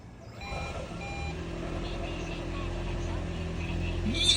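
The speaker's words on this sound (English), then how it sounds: "Let's start the car and let's see if we hear the rattling noise." A Toyota hybrid with an engine misfire problem starting cold gives a few brief electronic beeps, then a low engine rumble that builds and holds steadily, rising slightly at the end.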